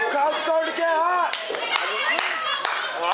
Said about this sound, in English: Oh, crowd's starting to get hot.